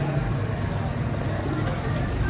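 Pigeons cooing in a loft of golden and Rampuri pigeons, low soft calls under a steady background of traffic and ambient noise.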